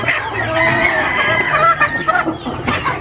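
Backyard chicken coop with hens clucking and a rooster crowing nearby, a loud, busy cluster of overlapping calls and cackles that stays up close throughout.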